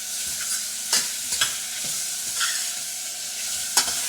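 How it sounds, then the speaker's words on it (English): Half a green pepper, cut into small pieces, frying with garlic and green chili for cabbage Manchurian: a steady close hiss of oil with a few sharp spatula scrapes and clicks against the pan. "So fry that along with the garlic and green chili."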